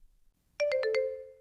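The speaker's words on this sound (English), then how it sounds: "My phone just went off." A phone ringtone, four quick bright chiming notes descending in pitch, then a held tone that rings on, clear and close in an otherwise quiet room.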